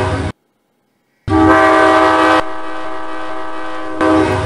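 A custom train horn plays on an MTH Proto model locomotive, a loud close chord sounding in repeated looping bursts with brief gaps and level shifts between segments, no voices.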